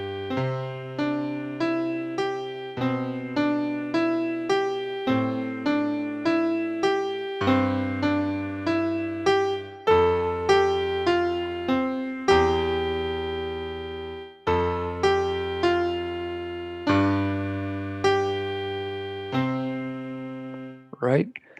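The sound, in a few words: piano played with swells, loud and soft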